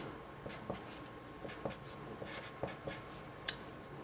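An equation is written by hand, pen strokes scratching and tapping in short, irregular bursts, quiet and close, with no talking.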